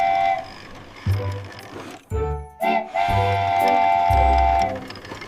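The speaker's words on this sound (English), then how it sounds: "The green train says, choo-choo!" A train whistle sounds in several tonal blasts separated by short gaps, over a low rumbling background.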